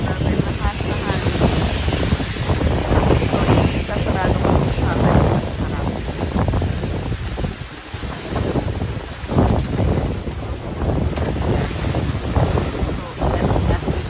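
Strong, gusty wind buffets the microphone during heavy rain in Japan, a loud roaring rush that rises and falls throughout while a person talks over it.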